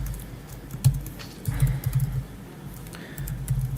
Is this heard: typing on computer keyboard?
yes